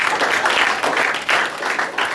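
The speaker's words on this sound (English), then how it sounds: "Give him a big round of applause, everybody!" Crowd clapping at a comedy hypnosis show for a high school post-prom event, a brief, steady burst of dense applause close by.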